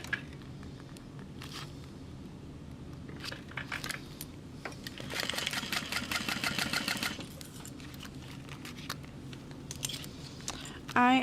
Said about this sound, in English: we're going to sew along the outside edge of the bag